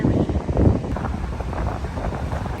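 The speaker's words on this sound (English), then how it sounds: "It's windy today though." Wind gusting across a microphone at the beach, a loud, rough rumble with buffeting surges and no clear voices.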